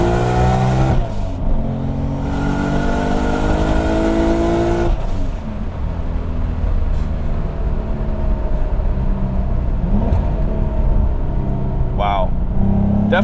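A Nissan R32 GT-R with a loud turbo and open wastegate revs hard and bounces off the rev limiter, its engine droning loud and close for several seconds, with people talking over it.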